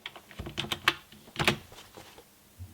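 Keys on a Turbo Chameleon 64 computer keyboard tapped in quick, uneven clusters of sharp clicks, close and fairly quiet, with short pauses between bursts and no speech.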